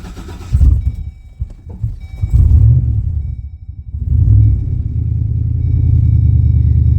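An old car engine idles with a low, loud, steady rumble that dips briefly and then settles into an even, continuous drone, heard close with no talking.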